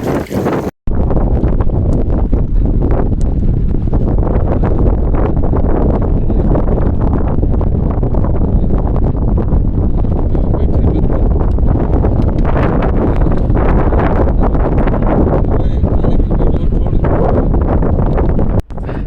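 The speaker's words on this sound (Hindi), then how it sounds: "हवा उसी तरह बरकरार है, पूरी रात हवा चलती रही" Strong coastal wind at Sonora Point blasts the microphone in a continuous loud roar and buffet for nearly the whole stretch, broken only by a brief cut near the start, with no talking.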